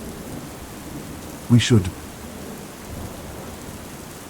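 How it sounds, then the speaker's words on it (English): Steady rain falls through a storm in a Warhammer 40K setting, a soft continuous wash with one brief louder burst near the middle and a short spoken fragment at the start. "The rain kept falling."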